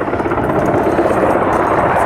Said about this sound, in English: So sorry you guys have to hear the helicopter.